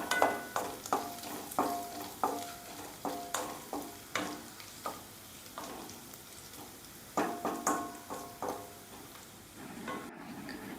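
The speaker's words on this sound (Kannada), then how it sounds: "ಈಗ ಕಟ್ ಮಾಡಿ ಇಟ್ಟಂತಹ 2 ಈರುಳ್ಳಿನ ಹಾಕ್ತಾ ಇದ್ದೇನೆ. ಅದು ಚೆನ್ನಾಗಿ ಫ್ರೈ ಆಗಬೇಕು" Two chopped onions frying in a pan for prawns chilli, a steady sizzle broken by a regular run of scraping, clanking spatula stirs close to the microphone, with no voices.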